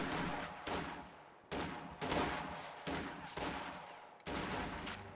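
Riflemen fire in a real-time strategy video game, a series of about six booming shots at irregular intervals, each followed by a fading rumble, fairly close and without speech.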